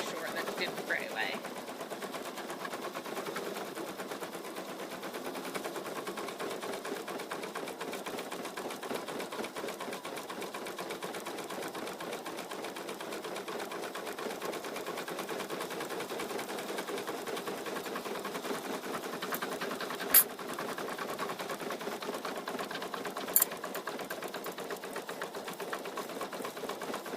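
An embroidery machine steadily stitches out a floppy-eared bunny stuffie design, a fast continuous mechanical chatter that holds evenly for the whole stretch, with two brief sharp clicks near the end and no talking.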